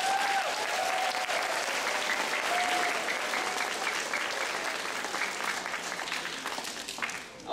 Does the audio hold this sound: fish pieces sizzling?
no